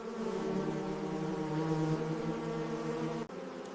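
Honey bees from a hive colony swarm in a steady, droning buzz with layered tones, fairly faint and unbroken, ending in a brief click and a dip.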